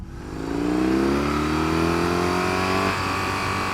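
A 2020 BMW R18 First Edition motorcycle, whose big boxer engine climbs in a loud, rising roar to the rev limiter at about 5000 rpm, heard up close and alone, then cuts back sharply near the end.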